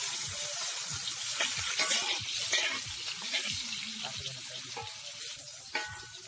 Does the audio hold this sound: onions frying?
yes